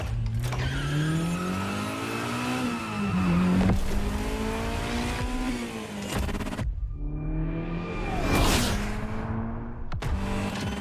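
A Ferrari in The Crew Motorfest video game revs hard through repeated rising engine pulls broken by gear shifts, with a squeal of tyres near the end. The loud engine runs continuously and no one speaks.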